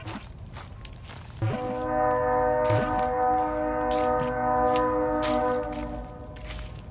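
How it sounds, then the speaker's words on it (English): A train horn blares for several seconds nearby during a night walk, loud and sustained, amid clattering, rumbling noise of a passing train. "the train is really loud."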